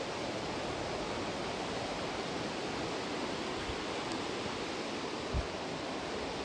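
A waterfall pours beside the Ramganga river at Jim Corbett during the monsoon, a dense, even rushing roar that fills the scene without a break.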